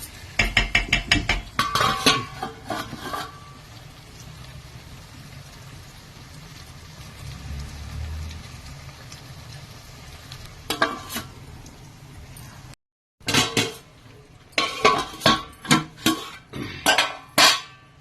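A spoon stirs an onion, garlic and tamarind curry in a pot, giving bursts of metallic scraping and clinking against the pot over a quiet sizzle, with pauses between rounds of stirring.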